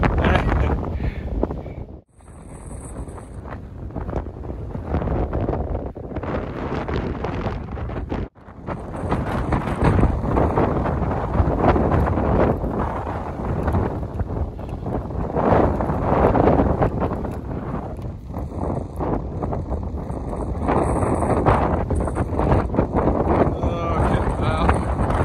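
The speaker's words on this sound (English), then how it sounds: "It's a bit windy, so I don't want to get blown over the edge." Strong wind at the edge of High Cup Nick, a steep valley in England, buffets the microphone in a loud, continuous roar, with a couple of brief dropouts and gusty swells throughout.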